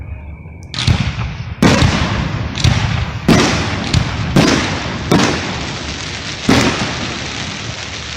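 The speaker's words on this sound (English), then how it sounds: "I also want to show you this fireworks show that happened for us" Fireworks burst one after another, about seven loud booms with crackling tails, rumbling and fairly close, no talking.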